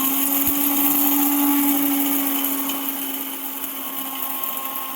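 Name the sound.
mixer grinder grinding coriander seeds into curry powder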